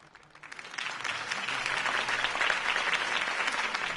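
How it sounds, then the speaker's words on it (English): Video game crowd applause after a political campaign speech rises quickly from quiet and holds as a steady, fairly loud roar of clapping. "could have heard that applause"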